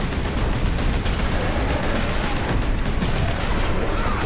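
An enemy blows up in the Xbox 360 game Space Marine amid continuous combat, a dense roar of gunfire and explosive blasts filling the whole stretch at a steady loud level.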